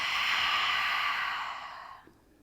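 A single slow breath drawn in through the nose and released out through the mouth, close and soft, a breathy rush that fades away after about two seconds.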